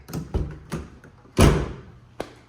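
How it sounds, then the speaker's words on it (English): Door of a 1967 Alfa Romeo Giulia Sprint GT shutting with a solid, close thud after a few lighter handling clicks and taps, followed by a brief sharp click. "just look how easy that door shuts"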